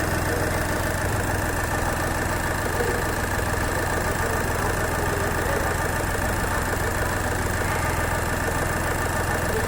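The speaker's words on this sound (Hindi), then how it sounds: "ये हमारे इंजन का साउंड।" A Skoda Fabia or VW Polo diesel engine idles loudly and steadily nearby, with a dense, clattering low rumble that runs unbroken and without voices.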